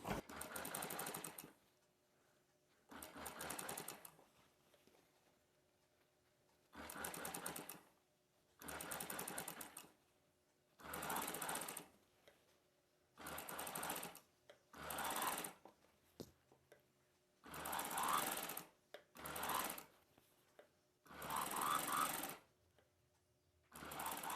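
Sewing machine stitching piping onto the round edge of a blouse, running in repeated bursts of fast, even motor-driven clatter separated by short quiet pauses, close and clear, with no voices.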